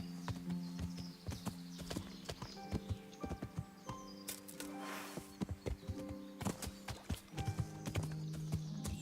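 In Kingdom Come: Deliverance, a horse canters with quick, irregular hoofbeats thudding in triplet clusters, moderately loud and close against quiet background music.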